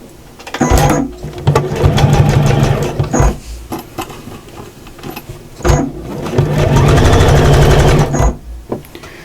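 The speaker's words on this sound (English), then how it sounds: "So let's get that stitched down." A sewing machine stitches fabric for a storage project in two long loud bursts of rapid mechanical whirring, with short pauses and clicks between runs, close up and with no talking.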